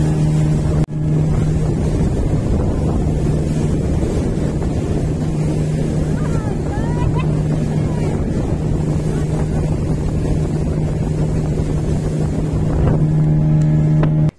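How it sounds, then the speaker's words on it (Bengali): A speedboat rides across the lake at Maithon Dam, a loud continuous engine drone with a steady hum, heavy wind buffeting the microphone and water rushing beneath, constant and close for the whole stretch, with no clear speech. "এই স্পিড বোট রাইডটাও কিন্তু আমাদের বেশ ভালো লেগেছে, খুব এনজয় করেছি এই স্পিড বোট রাইডটা।"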